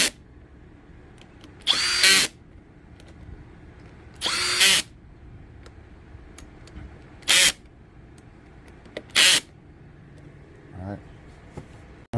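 Power drill running down clutch cover bolts on a Yamaha Raptor 660 ATV, four separate loud bursts of whirring, each lasting about half a second, with quiet pauses between them.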